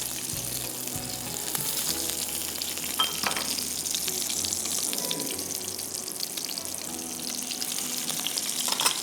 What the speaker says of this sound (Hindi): हल्की आंच पे फ्राई कीजिएगा